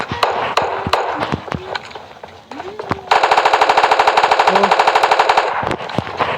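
Gunfire in the video game PUBG Mobile Lite: a few scattered single shots, then a long, rapid automatic burst of evenly spaced cracks, loud and close.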